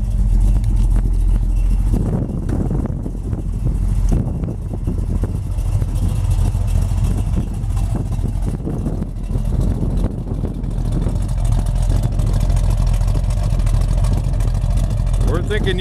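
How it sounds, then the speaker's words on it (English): A 1973 Dodge Challenger 440 big-block V8 idles continuously at close range with a deep, steady rumble, low and throaty, with muffled talking partly over it. "We'll get out and let you hear that Mopar rumble."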